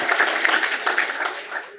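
Applause from a seated audience at a talk on college access and postsecondary investment in Chicago, a steady wash of clapping lasting under two seconds and tapering off at the end.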